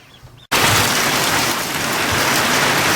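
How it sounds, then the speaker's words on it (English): Heavy rain pours down in a sudden cloudburst over a barn where ducklings are kept, a dense, loud, steady roar of falling water that bursts in abruptly after a quieter moment and continues alone. "Got a bit of a cloudburst here."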